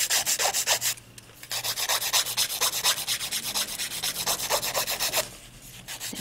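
Rhythmic scraping of a file shaping a nail tip, fast back-and-forth strokes close up, with a couple of brief pauses between bursts.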